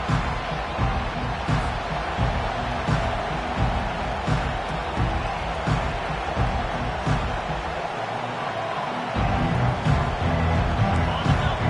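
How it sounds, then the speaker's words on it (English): A loud stadium crowd in a Madden/NCAA college football video game gives the visiting Buckeyes an ear-splitting welcome. The cheering is a steady roar throughout, with a commentator talking over it. "This crowd bringing an ear-splitting welcome to their visitors."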